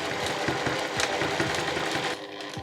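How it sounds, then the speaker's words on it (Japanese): Sewing machine stitching a 7 mm seam on a two-tone convenience-store-size tote bag: a close, rapid mechanical chatter of stitches in quick rhythmic bursts, pausing briefly near the end. "そしたら端から7ミリを縫います。"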